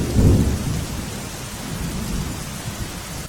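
A heavy downpour pours during a monsoon storm in Devbhumi Dwarka district, Gujarat, with a loud low thunder rumble at the start that fades into a dense, steady roar of rain.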